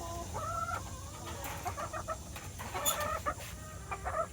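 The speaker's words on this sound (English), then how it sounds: "This is a year-old hen." A year-old hen, still laying and nearing her molt, clucks close by in a run of drawn-out and quick, choppy calls over low background noise.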